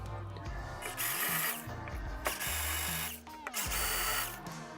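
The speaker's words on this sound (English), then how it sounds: "go ahead and drill your holes through" An electric drill whines in several short bursts, drilling a pilot hole to mount a rod holder backing plate to a kayak rail, its motor pitch rising and falling, with brief pauses between runs.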